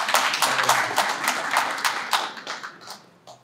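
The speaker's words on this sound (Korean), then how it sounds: "멀리서 박수 한번 부탁드리겠습니다" Scattered clapping from a modest audience at the opening ceremony of an art exchange exhibition, individual claps distinct and irregular, fairly close, swelling briefly and then thinning out toward the end.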